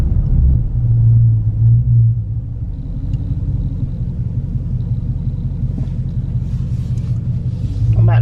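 A 2021 widebody Dodge Charger Scat Pack with a fully straight-piped exhaust cruises in eco mode, its loud, steady low exhaust rumble droning continuously, swelling slightly at the start and end.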